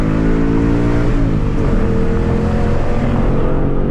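A Chevrolet Camaro RS with an LGX V6 and quad exhaust accelerates hard, a loud, steady engine roar heard from up close that climbs in pitch through the pull with no voices over it.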